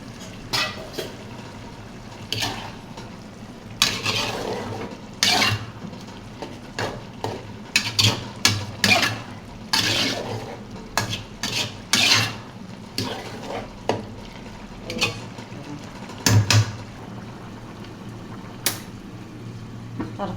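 Prawns and bottle gourd being stirred in a hot pan, a spatula scraping and knocking against the metal in irregular bursts over a low sizzle, close and fairly loud, with pauses between strokes.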